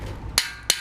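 Metal gear puller smacked onto the axle of an 80cc motorized bicycle: two sharp, close metallic whacks about a third of a second apart, over a faint low background.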